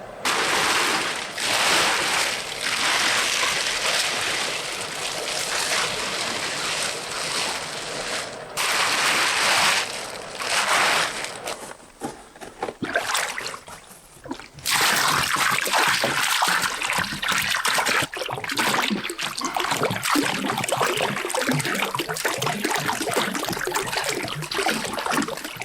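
Water rushes and splashes into an inground wooden pool fitted with a new liner, a steady loud flow that dips and breaks up in the middle before surging back strongly.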